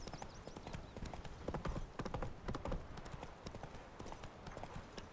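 Roach the horse gallops in The Witcher 3: Wild Hunt with quick, rhythmic hoofbeats on the ground, fairly quiet and continuous, with occasional game sounds behind.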